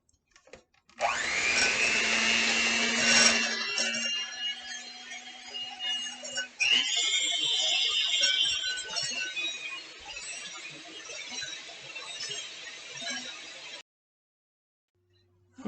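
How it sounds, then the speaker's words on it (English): Eggs beaten hard in a bowl for zucchini muffin batter with an electric mixer, a loud steady whirring drone that starts abruptly, shifts pitch partway through, then cuts off. "Mama says to beat the bejesus out of those eggs"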